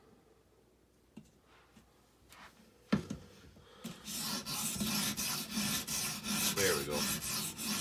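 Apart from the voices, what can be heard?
folding hunting knife sharpened on Edge Pro 220 grit stone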